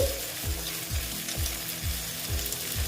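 Egg frying in hot oil for a potol, onion and egg jhuri dish, with a steady broadband sizzle and a rhythmic scraping stir repeating about twice a second, close and continuous with no talking.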